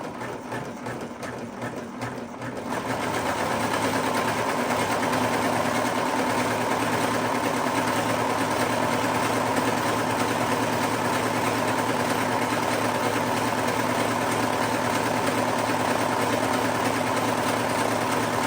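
Overlocker stitching along a folded fabric edge: a steady, fast mechanical whir that starts after a brief quiet moment, then runs evenly and continuously, close by, with no talk.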